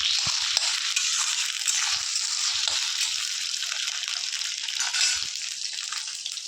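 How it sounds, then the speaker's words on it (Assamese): Potatoes and onions cooking in a pan of oil produce a dense, even sizzle that continues throughout, broken by a few low clicks of utensils, with no one speaking. "অকণমান ভাজি ল'ম মই"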